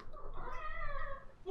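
A house cat meows indoors, one drawn-out, wavering cry lasting about a second, close and fairly soft, with no talking over it.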